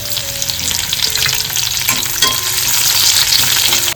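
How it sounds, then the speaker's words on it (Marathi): Garlic and curry leaves fry in hot oil in a kadhai for tempering, a loud, continuous close sizzle with crackle and stirring throughout and no voices. "पहिली लसूण घालून घेते फोडणीसाठी,"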